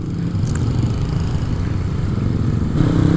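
A Yamaha NVX V2 scooter engine idles close by, a steady low chugging rumble that rises slightly in revs near the end, with no talking.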